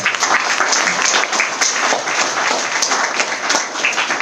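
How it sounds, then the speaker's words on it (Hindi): Guests at an IMC business seminar give a loud, dense round of applause in an indoor hall, the clapping staying strong and continuous throughout. "मैं चाहता हूं कि हमारे सारे गेस्ट के लिए एक जोरदार तालियां हो जाए"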